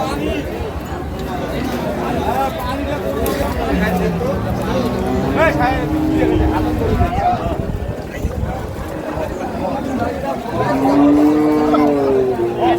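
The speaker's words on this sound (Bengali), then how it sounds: "আর এখানে একটি গরু দেখাশোনা চলছে" Cattle moo repeatedly at a busy rainy-day cattle market, several long, loud lowing calls rising over a dense crowd of chattering voices.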